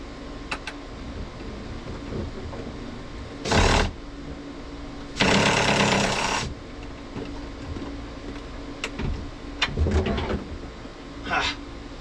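Power drill driving a screw at a tough angle while taking the top off a 2024 YOHO center cabinet, two short whirring bursts between clicks and handling noise, with someone talking.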